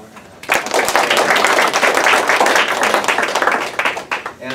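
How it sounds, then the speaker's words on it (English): A church audience breaks into applause during a sermon on godly marriage: after a brief pause, a loud burst of many hands clapping swells and holds for about four seconds, then begins to fade. "Let's give a round of applause for him."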